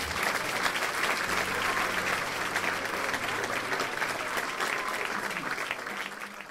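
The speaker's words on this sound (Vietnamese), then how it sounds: "Một lần nữa ta cho một tràng pháo tay chào đón tất cả mọi người đến với chương trình Mái ấm gia đình Việt ngày hôm nay." A studio audience at a Vietnamese family television show bursts into sustained, dense applause that holds steady throughout and fades slightly at the end.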